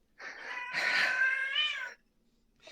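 A house cat gives one drawn-out, wavering meow lasting over a second, close and clear in a quiet room, followed by the start of another brief call.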